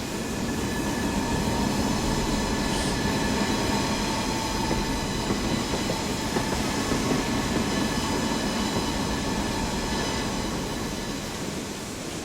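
A goods train with some wagon brakes pinned on rolls steadily in Train Simulator 2016, a continuous rumble of wheels and running gear with faint rail clicks and a light metallic brake whine, loud and close, with no talk.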